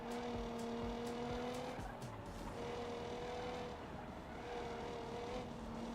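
Car tires skidding through a handbrake turn in a racing video game, a steady sliding squeal riding over the constant engine drone, moderately loud throughout.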